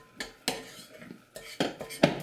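A spoon scrapes and clinks against a bowl while boiling water is stirred into a gluten-free pizza crust flour mix, giving irregular close knocks and clatters in quick bursts with no talk.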